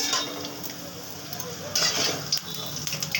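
Puffed rice pakoras fry in hot oil in a pan, with a steady sizzle running throughout and scraping, clinking turns of a utensil as they are flipped, loudest in the second half.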